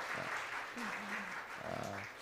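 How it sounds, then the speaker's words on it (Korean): A church congregation claps to welcome a visitor during a service, a continuous round of applause with a voice speaking over it midway. "우리 힘차게 환영의 박수."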